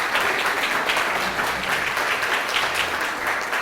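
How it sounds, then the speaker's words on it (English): Applause from an audience at a community meeting on fixing York, a steady, loud wash of clapping filling the room for several seconds with no voices on top. "why don't you give yourselves a round of applause just for your caring about so much about this community"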